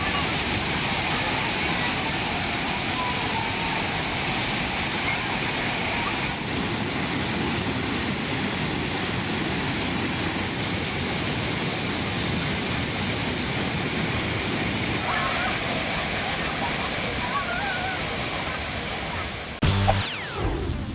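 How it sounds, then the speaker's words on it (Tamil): Thirparappu falls roars as a steady, loud wash of rushing water with tourists bathing, a broad unbroken rumble throughout, with a short burst of other noise at the very end. "திருப்பரப்பு அருவியில் பாதுகாப்பு கருதி குளிக்க தடை விதிக்கப்பட்டதால் மறுபக்கம் உள்ள முதல் இரண்டு பகுதிகளில் சுற்றுலா பயணிகள் உற்சாகமாக குளித்து வருகின்றனர்"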